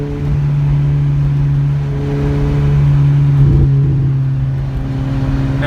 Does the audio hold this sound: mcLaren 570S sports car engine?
yes